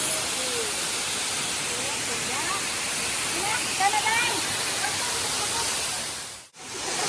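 The bottom falls of Ng Tung Chai waterfall roar as a steady, broad rush of falling water, loud and close, with faint birdsong threaded through.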